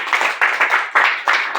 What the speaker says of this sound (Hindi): एक बार अपने लिए ताली बजा दीजिए